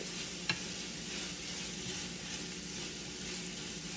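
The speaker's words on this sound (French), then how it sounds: "Je vais laisser mijoter un peu." Salt cod simmering in a pan with onions, a steady close hiss and gentle sizzle running throughout, broken once early by a small sharp tap.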